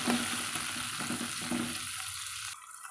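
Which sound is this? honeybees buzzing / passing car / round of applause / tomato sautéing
tomato sautéing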